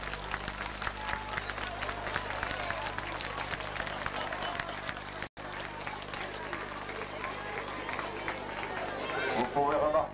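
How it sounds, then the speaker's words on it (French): Outdoor crowd at a town Republic Day celebration applauding after a balloon release, dense sustained clapping and chatter at a moderate distance, with voices mixed in. "On peut applaudir."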